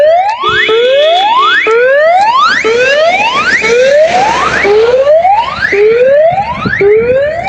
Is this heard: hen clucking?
no